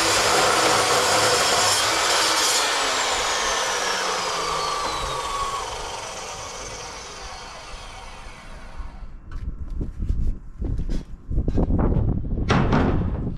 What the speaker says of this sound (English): Cold cut saw is just the best